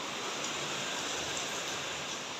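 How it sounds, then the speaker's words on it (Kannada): A downpour of heavy rain outside a home, an even roaring wash of water that holds steady from start to finish, with nobody speaking. "ಓ ಏನು ಇಷ್ಟೊಂದು ಮಳೆ, ಜೋರು ಮಳೆ."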